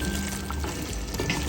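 Chicken biryani gravy bubbling steadily in a home kitchen pot, a dense continuous sizzle and simmer with small pops, close and fairly loud, no voices.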